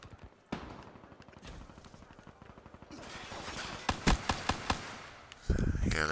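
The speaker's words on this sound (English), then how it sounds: "Let's try pistols. See how bad my rapid fire stuff is." Rapid pistol fire in Call of Duty: Black Ops 3, a quick run of sharp shots followed by a few spaced louder cracks and a final burst, with someone talking over parts of it.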